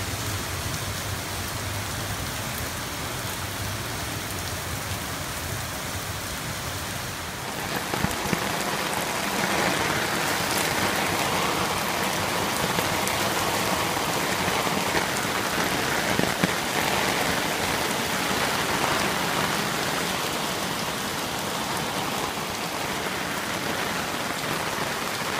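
Heavy typhoon rain pours down in a dense, steady roar that swells louder partway through and stays constant, with no voices.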